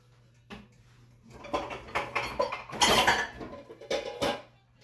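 A pot clatters and knocks against a stovetop in a home kitchen, a run of close metallic bumps and scrapes over about three seconds, loudest in the middle, with a steady low hum underneath.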